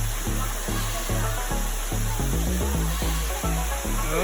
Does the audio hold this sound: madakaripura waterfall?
yes